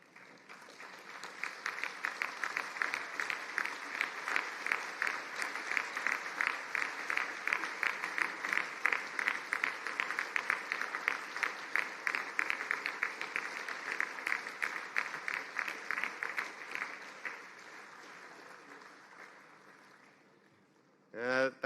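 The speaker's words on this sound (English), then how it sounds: "show your appreciation with a round of applause" Graduates at an engineering and technology conferring ceremony clap for their supporters, a long sustained round of applause in a large hall, fading toward the end before a voice returns.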